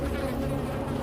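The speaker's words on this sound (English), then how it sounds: "The only sound was the buzzing of a fly near the lamp" A fly buzzes near a lamp in a quiet room, a steady, close droning hum that holds unbroken throughout.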